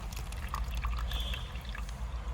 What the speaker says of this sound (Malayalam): പൈപ്പ് വരണ മാതിരിയാണ് വെള്ളം വരുന്നത്.